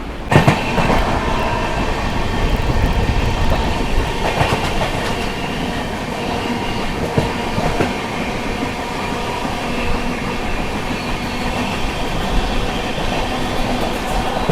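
Express train on the MGR Chennai Central–New Delhi route runs on the rails, a loud, steady rumble with rhythmic wheel clatter and occasional knocks heard from on board.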